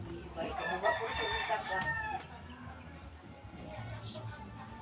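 Chickens clucking and calling close by, a busy run of cackles that fades into quieter background noise.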